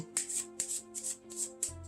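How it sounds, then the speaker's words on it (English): A deck of playing cards is shuffled overhand by hand, giving a quick series of crisp riffling swishes at close range in a quiet room. "We're going to shuffle off the cards using a regular overhand shuffle."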